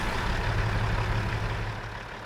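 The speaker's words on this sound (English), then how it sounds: "that's how she sounded when she started up" Peterbilt 387 truck engine in American Truck Simulator, a steady low diesel rumble that holds loud and close for about two seconds, then eases off slightly, with no voices.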